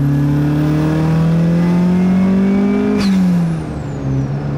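An Audi 80 with a remapped engine accelerates hard, its loud, close engine note rising steadily in pitch through a gear before a shift drops the revs and the drone settles lower.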